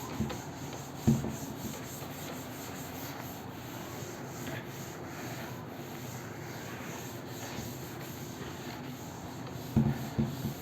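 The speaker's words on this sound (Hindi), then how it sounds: "ये मैं रब कर देता हूँ।" Writing is rubbed off a board during a physics lecture, making a steady scrubbing and rasping sound that lasts throughout. A couple of sharp knocks stand out near the start and the end, and no one speaks.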